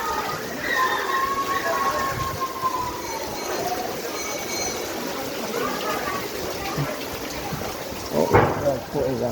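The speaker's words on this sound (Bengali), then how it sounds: "প্রচুর পরিমাণ বৃষ্টি হচ্ছে।" Heavy rain pours on a village market road, a steady wash of hiss and patter running throughout while people talk over it, with a brief louder clatter near the end.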